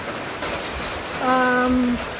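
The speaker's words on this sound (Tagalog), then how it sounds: "Ayan po, nagsisimula na pong umulan." Light rain begins falling ahead of Typhoon Uwan, a steady, close, broadband hiss with a brief tonal voice-like sound rising over it midway.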